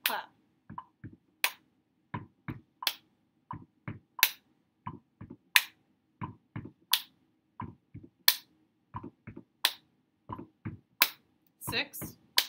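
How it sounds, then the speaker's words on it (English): Stomp-stomp-clap body percussion in the We Will Rock You pattern, played at home as a practice accompaniment for viola, with sharp, close hits repeating steadily and no talking. "Let's start with the foot clapping and stomping."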